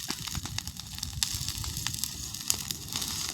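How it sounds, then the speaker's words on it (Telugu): A wildfire burns through a farm field, giving off a steady bed of sharp crackles and pops at moderate loudness, with no voices. "wild fire"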